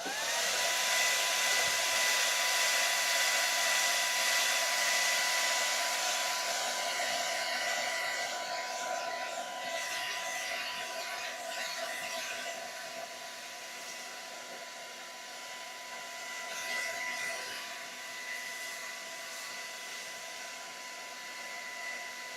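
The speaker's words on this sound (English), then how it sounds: "I'm gonna dry this one up really quick with the hair dryer" A hair dryer blows continuously at close range, its whine and airflow wavering slightly in loudness as it moves, with no talking.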